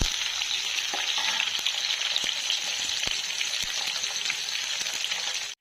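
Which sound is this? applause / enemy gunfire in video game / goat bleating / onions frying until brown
onions frying until brown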